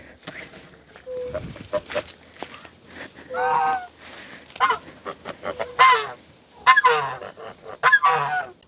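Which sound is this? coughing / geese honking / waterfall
geese honking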